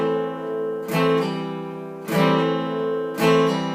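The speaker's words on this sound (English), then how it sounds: "the pull-off is the exact opposite. So you hit it, it's totally fretted, and take that finger off" Guitar strings ring in three separate strums about a second apart, each struck chord sustaining and shifting as a fretting finger lifts off; close, clean and without any talking.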